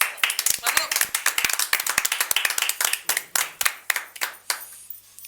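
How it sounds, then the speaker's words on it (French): A small group clapping for guests in a radio studio, sparse, distinct hand claps that are fairly close and irregular, thinning out toward the end. "Applaudissements pour eux."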